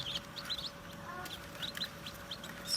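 Newly hatched chicks inside a bantam-brand egg incubator give repeated thin, high peeps over a steady machine hum, close and continuous with no talking.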